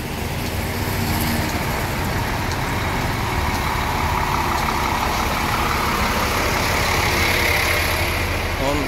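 A Rosalia Indah bus engine idles at the ticket office, a steady low diesel rumble mixed with surrounding traffic noise, continuous and fairly close throughout.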